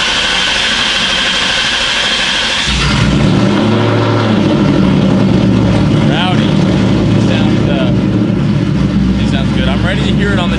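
Ford Mustang with full bolt-on modifications running on a dyno: a loud, steady engine drone that steps up sharply in level and pitch after about three seconds, then holds a strong sustained roar close to the car.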